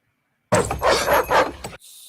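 A dog from the film M3gan gives a short burst of loud, close barking that cuts off abruptly, followed by a brief quieter tail.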